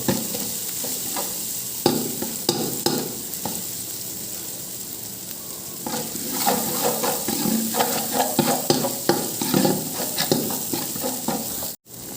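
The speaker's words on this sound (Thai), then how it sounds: "ลงไปครับพร้อมเต้าหู้นะครับ ผัดพร้อมกันเลยนะครับ" Braised pork belly and tofu are stir-fried together in a pan: loud, close sizzling with repeated scraping and clattering strokes of a spatula, building in busy bursts before cutting off sharply.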